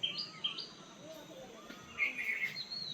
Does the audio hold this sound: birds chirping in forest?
yes